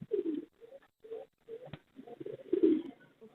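German line frill pigeons coo in a loft, with low, throaty rolling calls in short phrases, close and fairly clear against a quiet background.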